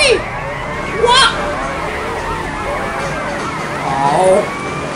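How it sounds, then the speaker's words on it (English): A police car siren wails in the video game Grand Theft Auto Vice City, loud and continuous with a rising and falling pitch, over engine and traffic noise and a player talking. "I got the police car behind my tail"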